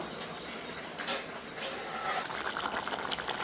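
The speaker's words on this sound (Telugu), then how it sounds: "చూడండి, మనకి ముక్కల పులుసు మంచిగా మరుగుతుంది." Tamarind curry with vegetable pieces boiling in an open pot, a soft steady bubbling wash heard close but faint.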